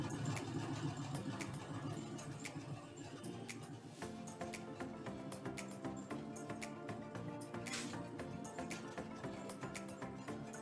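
A sewing machine runs steadily, stitching a fabric placemat toward a corner with a continuous mechanical whir and rapid needle rhythm, close and fairly loud, with a brief pause near the middle before resuming.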